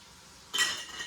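Stirring a tomato and red chutney masala with kitchen king spice in a pan for masala dosa filling: a quiet clinking scrape of spoon against metal pan, one brief burst of clatter and rustle, close and with no voices.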